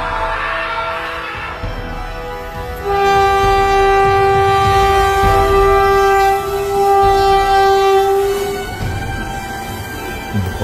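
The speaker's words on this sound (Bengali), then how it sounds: "সামনে থেকে ট্রেন আসছে।" Approaching train in a Bengali horror cartoon: a rumbling rail roar builds as a loud sustained horn blares for several seconds, then fades while the heavy rolling noise continues, with no voices.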